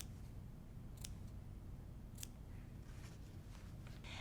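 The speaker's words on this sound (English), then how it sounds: "Nice sharp scissors help." Sharp scissors snip through quilt fabric in a few crisp, separate cuts spaced a second or so apart, faint against a low background hum.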